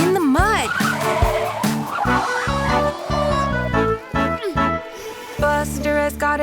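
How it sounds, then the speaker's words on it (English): Cartoon car brakes screech loudly over a bouncy children's music track, with sliding squeals and a rhythmic beat throughout. "Screech go the brakes, followed by a thud."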